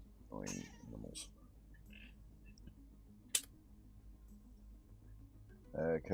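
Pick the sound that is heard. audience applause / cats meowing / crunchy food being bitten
cats meowing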